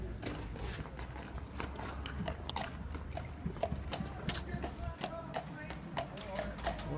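Horse hooves clip-clop in a video game, quick tapping hoof beats running through a busy mix, with a voice talking over them.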